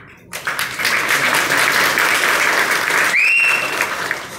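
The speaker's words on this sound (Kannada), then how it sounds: "ಅದಕ್ಕೆಲ್ಲ ಕಾರಣ ನಿಮ್ಮ ಈ ಚಪ್ಪಾಳೆ," A large audience applauds and cheers loudly and steadily at a Kannada film audio launch event, the dense clapping swelling into a sustained roar that carries on throughout, with a brief whistle rising near the end.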